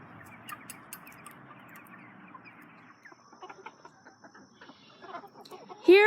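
Young roosters hatched this year on a farm cluck and call near and far, a steady busy flock chatter at first, thinning to scattered clucks, with a louder close cry at the very end.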